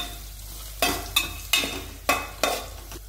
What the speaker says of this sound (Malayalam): എന്നിട്ട് നന്നായി ഇളക്കാം.